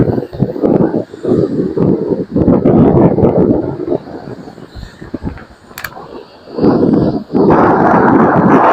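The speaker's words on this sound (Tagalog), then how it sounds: "Lakas po ng hangin." Strong wind gusts roar against the microphone by the sea, coming in heavy rushing bursts with short lulls in between, loud and close throughout.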